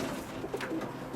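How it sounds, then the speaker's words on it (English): A pigeon in a roller kit box gives a soft, low cooing call, heard close and alone for just over a second against quiet background noise. "She's my favourite pigeon."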